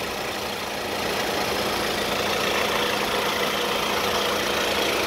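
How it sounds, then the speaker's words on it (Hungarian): A Honda Jazz 1.4 LS petrol engine idles with the bonnet open, giving a smooth, quiet, steady hum with a faint hiss and no voices. "A motorháztetőt kinyitottam, így bele tudunk nézni, meg tudjuk hallgatni a csendes járású motort."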